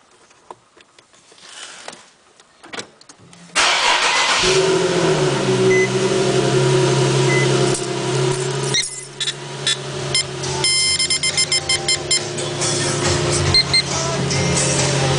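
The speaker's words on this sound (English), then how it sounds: "So you can go ahead and get the car started real quick here." An Infiniti G37S engine cranks and catches, then settles into a steady, loud idle close by, with a few light clicks and squeaks over the running hum.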